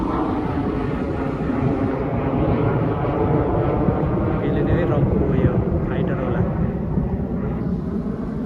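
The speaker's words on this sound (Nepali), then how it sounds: "आकाशमा फाइटर उडिरहेछ।" A loud, continuous jet roar rumbles overhead, deep and steady throughout, with a voice speaking faintly beneath it.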